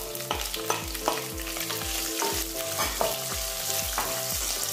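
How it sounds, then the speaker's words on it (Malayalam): Chopped onion for a Kerala raw mango sambar sautés in hot oil with a steady sizzle, broken by regular scraping stirs of a spoon against the pan, close and fairly loud, with no one speaking. "ഒരു സവാള ചെറിയ കഷ്ണങ്ങളായി മുറിച്ചത് ചേർത്ത് കൊടുക്കാം"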